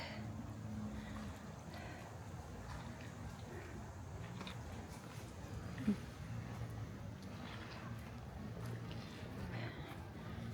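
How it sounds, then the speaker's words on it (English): Low, steady wash of small lake waves lapping onto the shore near moored boats at Lake Norman State Park, a continuous soft rumble with faint wind and no clear breaks. "Can kind of hear the waves over the boats lapping up onto the shore over here."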